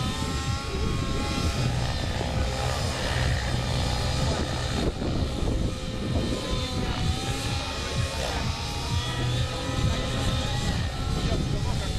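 Buzzing rotor and engine whine of a model helicopter in flight at a fun-fly event, steady and moderately distant, with a voice talking over it.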